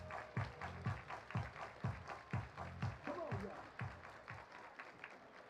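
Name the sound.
baseball crowd clapping hands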